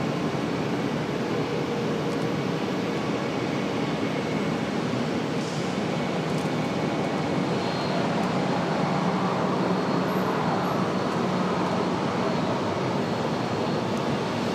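A United airliner arrives at Charlotte airport with a steady, broad jet roar that stays loud and even, its tone shifting slightly as the plane passes.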